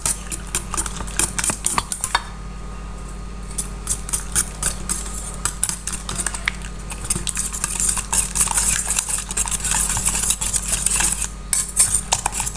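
Eggs with turmeric, chili powder and salt are beaten briskly in a bowl. A fork or spoon clicks and scrapes against the sides in a fast, continuous rhythm, close and fairly loud, with no talk over it.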